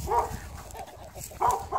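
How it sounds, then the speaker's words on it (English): A dog barks a few times at a distance outdoors on a farm where cows are being dropped off, short muffled bursts separated by pauses, with no talking over it. "There's a dog barking."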